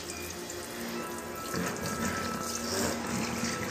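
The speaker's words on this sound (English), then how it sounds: "I'm going to stand her up and you're going to hose her down." Water streams steadily from a shower hose during a newborn baby's first bath at home, a close, continuous hissing spray that holds throughout with no talk over it.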